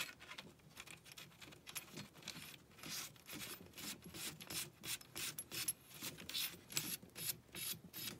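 A part being screwed onto a Centurion BP12 shotgun during reassembly gives close, quiet rasping and ratcheting clicks that come in short repeated bursts, with no talking.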